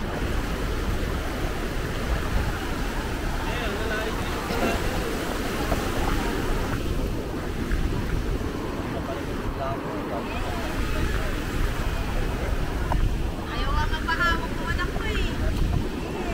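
An outrigger bangka moving over open sea, with wind buffeting the microphone and rushing water and waves filling the whole stretch, and voices now and then.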